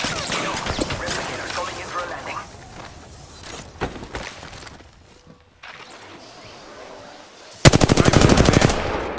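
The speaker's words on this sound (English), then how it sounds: "They're shooting at me?" Automatic weapons fire in Apex Legends, with scattered shots and clattering bursts early on, a brief lull, then a loud rapid-fire volley near the end.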